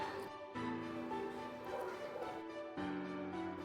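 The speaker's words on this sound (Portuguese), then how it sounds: "O cachorro que late." A dog barks in short bursts somewhere in a quiet residential neighborhood during lockdown, its yaps and whimpering calls faint and distant against a low background hush.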